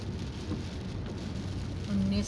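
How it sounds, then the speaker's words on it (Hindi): Steady rain hisses and patters outdoors around a town market, with a continuous wash of noise and a low hum rising near the end; no clear speech. "हो गई है बारिश"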